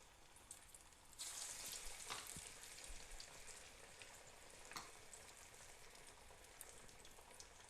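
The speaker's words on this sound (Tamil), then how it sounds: "ஒரு ஃப்ரை பேனில் தேவையான அளவு எண்ணெய் சேர்த்துட்டுருக்கேன். எண்ணெயும் நல்லா காஞ்சிட்டு இப்போ நம்ம ஒவ்வொரு வடையாக தட்டிடலாம்." Mint vadai frying in hot oil in a fry pan, a soft steady sizzle that swells as the batter goes in, with faint light crackles and no voices.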